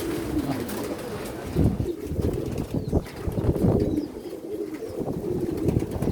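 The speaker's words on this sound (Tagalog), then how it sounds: "Ang daming kalapate." Many domesticated pigeons nearby, with bursts of wing flapping and soft cooing over a steady rustling background.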